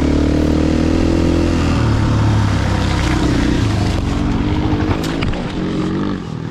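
Husqvarna, KTM and WR dirt bikes climb a muddy clay mountain trail, engines droning loud and close with rising and falling revs throughout.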